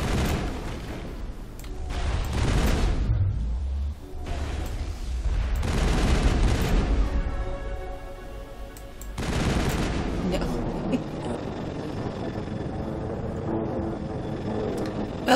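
Bursts of battle rifle fire in the video game Mass Effect, loud and repeated in several volleys over a busy game soundscape, with booming impacts and a sustained rumble between shots.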